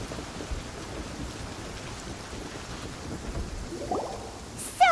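Steady rain falls in the video game Genshin Impact, a soft even patter with a faint rumble, ending in a brief bright chime.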